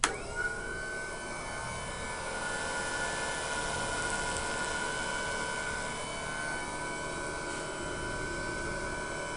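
Turbo kicking on during a switch test of an electric overdrive unit, a steady whining hum with a sharp onset that holds evenly, fairly faint, with no talk.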